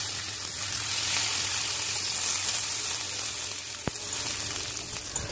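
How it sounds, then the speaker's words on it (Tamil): Mustard seeds, cumin, urad dal and curry leaves tempering in hot peanut oil for peanut chutney, a steady bright sizzle and crackle with a single sharp pop near the end, close and alone. "எண்ணெய் நல்லா காஞ்ச பிறகு கடுகு சீரகம் கொஞ்சமாக உளுத்தம் பருப்பு மற்றும் கருவேப்பிலை போட்டு தாளிச்சு எடுத்துக்கோங்க"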